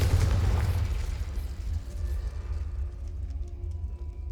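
A Confringo spell blast in the Hogwarts Legacy video game: a loud, close, low booming explosion at the start that rumbles and fades over a few seconds.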